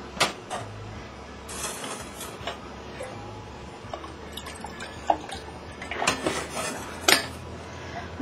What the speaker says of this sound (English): Rinse that can out.